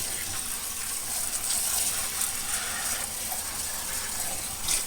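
Hot water runs steadily from a kitchen tap, a constant close hiss and gush with no talking over it.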